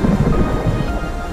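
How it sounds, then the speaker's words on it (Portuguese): A thunderstorm in the video game Jurassic World Evolution, with a loud, steady rumble of thunder and rain that fills the brief stretch without pause. "Uma tempestade cai"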